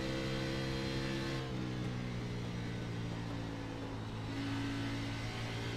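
A NASCAR Next-Gen race car engine held on the throttle gives a steady, droning mid-pitched roar that swells slightly partway through, with no voices.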